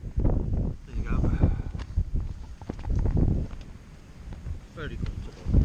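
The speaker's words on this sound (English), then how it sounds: "It's very windy today. We got gale force winds going on." Strong gale-force wind buffets the microphone outdoors during a tarp setup, roaring in uneven gusts, with people talking and moving close by throughout.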